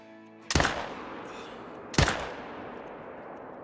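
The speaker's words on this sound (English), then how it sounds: "That's going to be a 250-yard shot." Two loud rifle shots ring out about a second and a half apart in the deer-hunting game Call of the Wild, each a sharp crack fired at a deer some 250 yards off, trailing into a fading echo.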